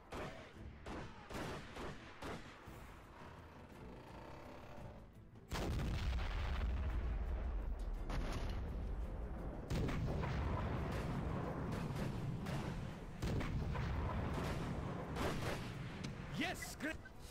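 Video game battle with artillery and massed musket gunfire after a fire-at-will order: constant loud, rumbling volleys and booms under unit voice callouts, with a sudden jump into heavier continuous fire.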